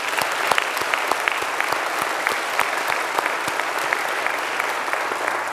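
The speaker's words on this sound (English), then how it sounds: "Let's give them a big round of applause." An audience at an awards ceremony breaks into steady, loud applause, a dense wash of clapping with a few sharper individual claps that holds evenly throughout without any talking.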